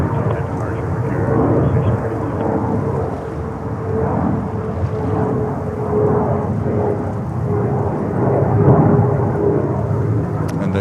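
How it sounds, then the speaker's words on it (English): An Embraer 175 jet climbs out of runway 22 right at JFK with a loud, steady, rumbling roar that holds throughout, while someone talks over it. "It's Embraer 175 that is so noisy here, climbing out of runway 22 right."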